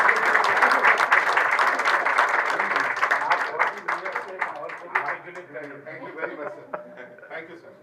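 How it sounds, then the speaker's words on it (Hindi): An audience applauds a poet at a scholarship award ceremony for girl BTech toppers, a dense burst of clapping that thins out over several seconds, with chuckles and talk mixed in. "सर कविवर के लिए जोरदार तालियां।"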